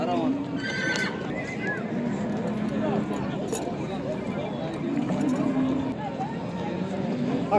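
Horses at a Nookat livestock market whinny now and then over a steady crowd murmur, with occasional hoof clops and people talking in the background.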